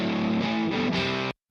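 Gretsch electric guitars layered together, one drenched in big reverb and tremolo, another through a Neutron phaser played with a slide in open tuning, swell briefly as a dense, wavering chord wash before cutting off abruptly.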